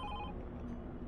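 A ride request alert chimes on a phone in a Bike Boost ride-hailing app, a short ringing tone over quiet background hum.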